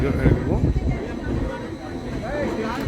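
A train to Jungfraujoch, Switzerland, rumbles and clatters steadily while people talk over the noise.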